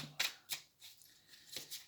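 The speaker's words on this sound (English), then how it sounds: "Let's just give this a quick shuffle" Tarot cards riffled and shuffled in a few quick bursts, close and crisp, with short pauses between.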